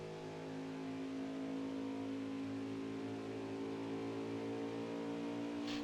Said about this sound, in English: Then we can hear his engine, and we can hear if he sputters.